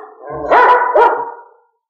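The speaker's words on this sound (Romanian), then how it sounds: "Apropie-te, câinele nu o să-ți facă nimic." A dog barks twice in quick succession, loud and close, with a whining tone leading in and trailing off after the barks.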